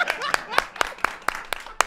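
A small audience claps at a football chat show, a steady run of sharp, evenly spaced hand claps up close with light laughter mixed in.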